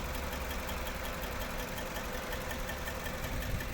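The 1.6-litre petrol engine of a 2016 Suzuki SX4 with an automatic gearbox idles with a steady, even hum and no talk over it.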